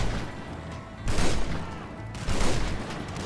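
Gunfire rings out in GTA 5 roleplay: a dense burst of shots at close range, with a second volley about a second later and no talk over it.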